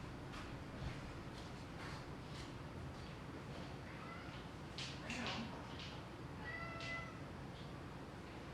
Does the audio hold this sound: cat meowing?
yes